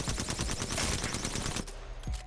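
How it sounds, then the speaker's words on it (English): Rapid automatic fire from the Alternator gun loaded with disruptor rounds in Apex Legends, a dense, loud burst of shots lasting about a second and a half, then a brief pause and one short trailing blast. "the alternator usually would usually shoot like this, but when we add disruptor rounds it sounds more like this"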